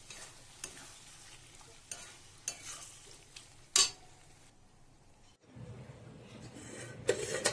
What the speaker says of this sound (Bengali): এই যে মশলা কষছি